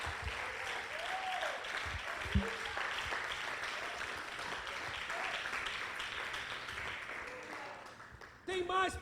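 A church congregation applauds in a steady, sustained wash of clapping inside the worship space, with voices audible underneath and a louder burst of sound near the end.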